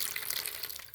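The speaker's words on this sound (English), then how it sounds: "we're going to get a little vinegar in there. Just enough to cover them." Vinegar poured over artifacts in a container until they are covered, giving a steady broadband splashing, fizzing pour that stays close and fairly constant for the whole second with no voices.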